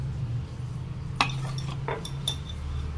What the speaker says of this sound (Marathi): मिरची आता खलबत्यामध्ये वाटून घेऊया त्यासाठी लसूण पण थोडंसं टाकूया याच्यात